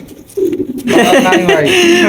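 Pigeons kept on a pigeon farm coo repeatedly at close range, their soft throaty calls layered with someone talking throughout.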